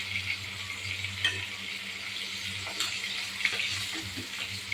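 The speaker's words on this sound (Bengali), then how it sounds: "আমি একে একে মাছগুলো ভেজে তুলে নেব" Pieces of ribbonfish fry in hot oil, giving a continuous close sizzling hiss with occasional soft pops and scrapes, without talk.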